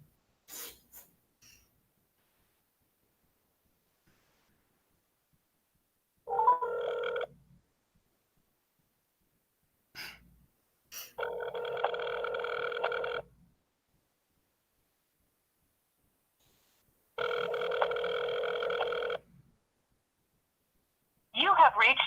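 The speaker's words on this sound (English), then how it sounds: "I'll try and make another phone call." Outgoing telephone call ringing back during a school board of education meeting, with two long buzzing ring tones in a repeating pattern separated by silence, plus brief clicks, heard fairly clearly over a quiet line.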